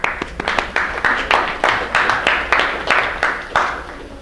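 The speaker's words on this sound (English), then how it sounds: "A little applause." Students in a physics lecture give brief applause, a rhythmic series of sharp claps repeating about every half second, close and fairly loud.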